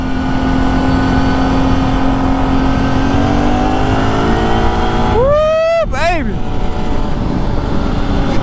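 A Kawasaki Brute Force 750 ATV engine drones loud and close at steady speed, then revs sharply up and down twice in quick rising and falling sweeps near the end.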